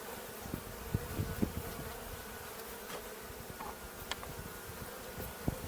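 A small fall swarm of agitated honeybees buzzes steadily and close while being moved between boxes, a dense droning hum with occasional sharper passes near the microphone.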